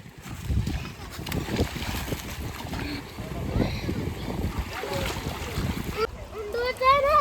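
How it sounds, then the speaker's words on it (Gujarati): Cold well water splashes as children bathe outdoors in a village, with irregular slaps and sloshes running throughout while children's voices chatter and shout over the water. "અને હવે આમાં નાહવા પડવાનું છે"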